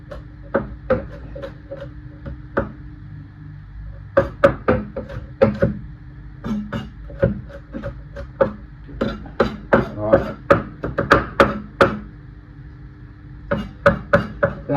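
Knife chopping an onion into very small cubes on a chopping board, a series of crisp, close taps in irregular bursts with short pauses between runs.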